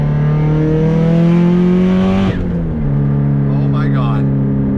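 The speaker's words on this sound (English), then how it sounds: "A little third gear pull around the bend." Subaru STI with a 500 hp engine pulling hard in third gear around a bend: loud, rising engine drone throughout, with a brief dip at a shift-like break midway, then continuing strongly.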